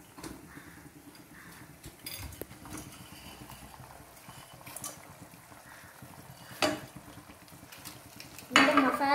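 Dry Maggi noodles dropped into a boiling pot of water and stirred, giving soft clinks and scraping against the pan over a low bubbling hiss, with one sharper clatter near the end.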